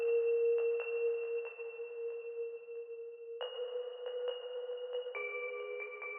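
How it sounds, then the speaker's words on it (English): A soft, steady bell-like tone sustains beneath sparse plucked notes in a dark trap melody, with a second higher chime layer entering midway and another near the end. "And then I added in this bell as a texture."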